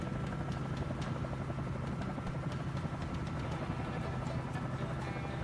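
A helicopter in Microsoft Flight Simulator gives a steady, loud rotor drone with a rhythmic chop over a low engine rumble, continuous and unbroken throughout.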